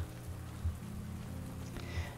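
Rain falls steadily outdoors, a faint even patter over a low constant hum, with a couple of slightly heavier drips standing out.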